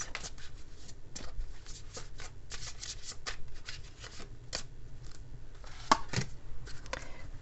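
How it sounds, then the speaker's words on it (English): Romance oracle cards being shuffled by hand, a steady run of soft papery riffles and flicks close to the listener, with no talking. "let me pull one of these romance"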